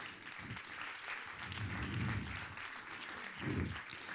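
Applause from an audience at a school closing ceremony, a steady wash of clapping lasting the whole stretch, with swells near the middle and end and some murmuring low underneath.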